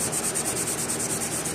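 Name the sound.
scrubbing window residue with Scotch-Brite pad and mineral spirits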